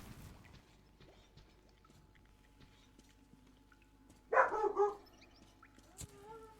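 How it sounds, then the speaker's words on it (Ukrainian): A dog barks indoors in a room in one short, loud burst of several rapid barks, standing out against faint, quiet background sound. "Це в мене песик лютує."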